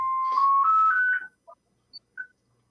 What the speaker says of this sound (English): That is the house phone.